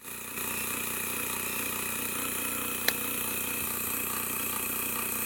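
An electric air compressor motor runs steadily while inflating a tyre, a constant droning hum with a whining tone and one brief sharp click partway through, close and alone without talk.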